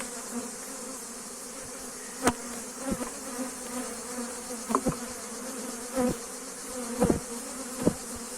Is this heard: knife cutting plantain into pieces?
no